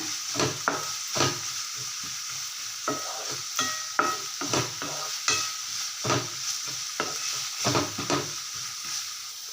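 Ingredients for a thuvaiyal sautéing in oil in a pan, stirred steadily: a continuous bright sizzle broken by repeated close scraping strokes of a spatula, no voices.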